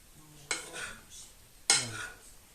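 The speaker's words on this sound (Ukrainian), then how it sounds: "Тепер перемішуємо це все" A spoon stirs okroshka dressed with mayonnaise in a bowl, giving two distinct scraping, clinking strokes against the bowl, each followed by a soft wet squelch, close and fairly quiet.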